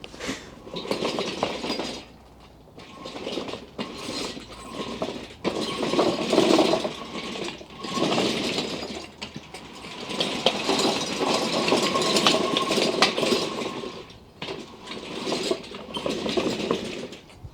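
A homemade T-1 Terminator battle robot trundles and spins on its tank tracks, a rough mechanical whirring and rattling of motors and gears that surges and fades in bursts, fairly close.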